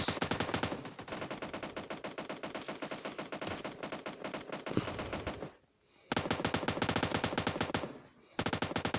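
Rapid automatic gunfire from a video game shooter, sustained bursts of dense machine-gun shots filling most of the stretch, broken by two brief pauses before firing resumes loudly.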